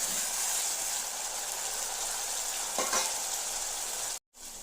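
Ginger, garlic and onion paste frying in a kadai: a short, steady sizzle with a brief stirring scrape, cutting off abruptly for a moment before the hiss returns.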